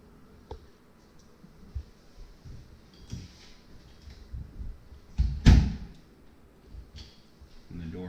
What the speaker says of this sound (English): When the door closes, latches, opens.